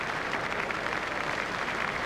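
Crowd applause from a cricket video game simulation of a one-day international between South Africa and Australia rises as a dismissed batsman is cheered off, a dense, steady wash of clapping with no voices on top.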